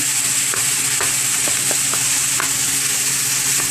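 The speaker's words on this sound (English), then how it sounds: "separate your beef pieces into smaller pieces" Close, continuous sizzling of ground beef pieces frying in a pan, punctuated by irregular utensil scrapes and taps as the meat is stirred and broken apart, with no voices.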